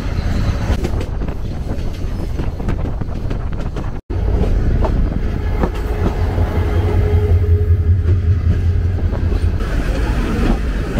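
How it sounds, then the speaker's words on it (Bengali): The Kishoreganj Express pulls out of Bajitpur railway station with a loud, continuous rumbling roar heard from on board, heavy wind buffeting throughout and a brief dropout partway through. "কিশোরগঞ্জ এক্সপ্রেস ছেড়ে দিল বাজিতপুর রেলওয়ে স্টেশন"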